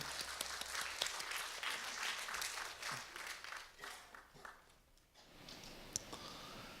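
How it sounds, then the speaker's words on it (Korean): Quiet, scattered clapping rises from a worship congregation at a Thursday praise service as the pastor comes up to preach, soft and somewhat distant, thinning out toward the end with a few isolated claps. "우리 목사님 나오실 때 우리 감사의 박수, 축복의 박수"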